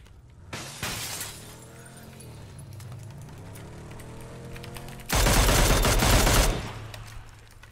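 Gunfire in PUBG: a short burst near the start, then a sustained loud volley of rapid automatic shots about two-thirds through, close and harsh with no talking.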